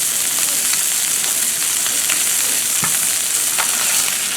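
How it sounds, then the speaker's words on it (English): Chicken sizzles steadily in a hot pan with molasses and pomegranate juice, a constant close crackling hiss with a few sharper pops and no voices. "Now you can hear that chicken sizzling."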